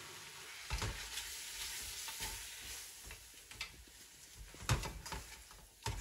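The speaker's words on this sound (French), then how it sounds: "Et je remue." Flour-coated beef being stirred in a hot pan for an express bœuf bourguignon, with steady sizzling and frying under scattered scraping stirs and a few sharper clinks, fairly close, with no talk.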